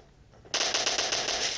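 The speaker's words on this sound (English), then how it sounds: "shoot the zombie" Video game automatic gunfire shooting zombies in PUBG, a sudden loud, close burst of rapid machine-gun shots starting after a short quiet moment and continuing steadily to the end.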